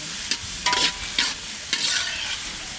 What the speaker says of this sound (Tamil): கிண்டி விடு கிண்டி விடு.